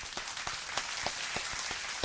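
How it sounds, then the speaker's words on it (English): Faint, sparse claps ring out in an even rhythm, roughly one every quarter second, over a quiet hiss, like a single person slowly applauding alone. "Let me give myself a round of applause."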